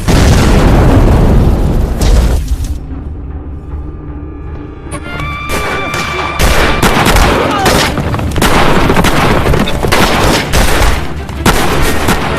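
Heavy cannon fire from a Qing dynasty army battle against Ming loyalists: repeated loud booming blasts and bursts, with a brief lull before more rapid explosions and crackling gunfire continue close and dense.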